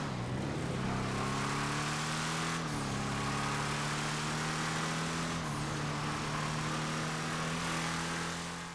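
A car engine in GTA Online starts up, then settles into a steady buzzing idle with a few brief blips in pitch. It is loud and continuous, with no talking.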